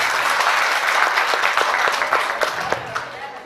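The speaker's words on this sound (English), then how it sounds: "please give a big applause for our dignified guests and our special guests." An audience applauding guests at a Manipuri festival gathering, dense lively clapping that is loud at first and gradually fades.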